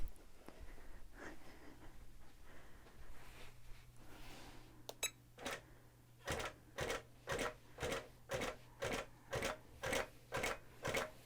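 A longarm quilting machine stitches along the bottom edge of a quilt loaded on a frame, basting the layers together; a steady run of about a dozen evenly spaced mechanical bursts follows some quieter handling noise, close and alone.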